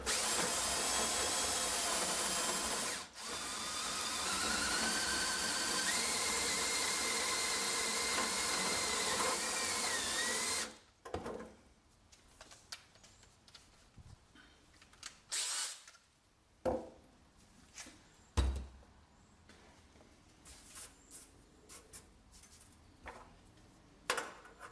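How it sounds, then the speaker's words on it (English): A hole saw on a power drill cuts a hole through a BBQ drip tray, a loud continuous grinding whine for about ten seconds that stops abruptly, followed by scattered knocks and handling clatter. "I'm just using a hole saw here"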